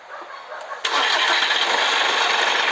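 A Kentavr 244M walk-behind tractor engine is started: quiet at first, then the engine catches abruptly and settles into a loud, steady, rattling idle close by.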